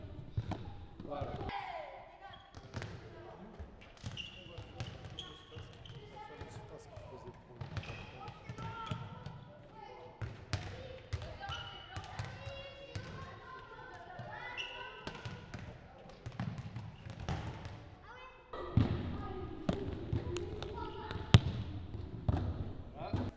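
A ball bounces repeatedly on a gym floor during a school racket-and-ball game drill, the thumps coming at irregular intervals beneath near-constant talk from children and an instructor.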